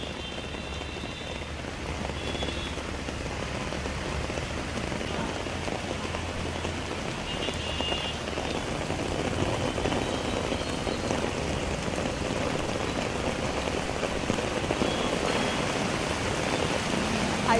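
Heavy rain pours steadily over Hyderabad streets, a dense, even hiss of drops on surfaces with a low rumble beneath, continuous and fairly near, with no voices.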